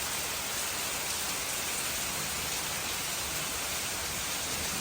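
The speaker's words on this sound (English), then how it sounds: "Oh, it's such a beautiful rain" A beautiful, steady rain falls around the veranda of a small villa, a broad, continuous hiss that stays loud and unbroken from start to finish, with no one speaking.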